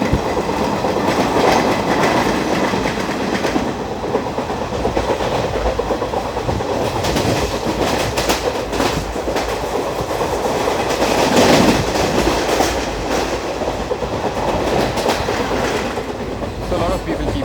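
A 22149 Ernakulam–Pune Superfast Express runs through the monsoon ghats near Bhor, giving a loud, steady onboard rumble with rhythmic clickety-clack of wheels over rail joints that continues without a break.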